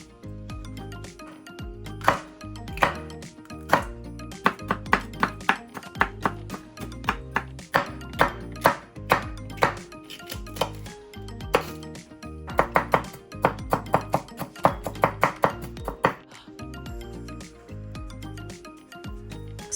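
A knife chops green peppers, red peppers, scotch bonnet and red onions on a board, with many close, crisp knocks in quick bursts and brief pauses between runs, all over a faint background hum.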